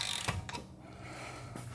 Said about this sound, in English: And then set our torque wrench to 150 Newton meters.